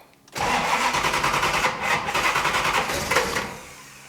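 A mystery auction race car engine cranks over on a dose of brake cleaner, a loud close churning with a rapid uneven pulse that sputters for a few seconds, then fades.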